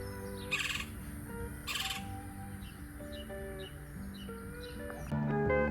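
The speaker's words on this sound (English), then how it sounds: "This woodpecker doesn't like kiskadis." A woodpecker and kiskadees call near Laredo on the Mexican border: two sharp, harsh bursts early on, then scattered thinner chirps and tonal notes, ending in a denser cluster of calls.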